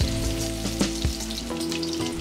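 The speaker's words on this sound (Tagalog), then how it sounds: "Start na tayo magisa ng sibuyas." Sliced onions sautéing in a hot pan: a steady, close sizzle and crackle with a few brief spatters and stirring knocks, no voices.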